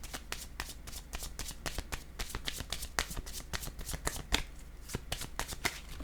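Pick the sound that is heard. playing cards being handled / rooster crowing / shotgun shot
playing cards being handled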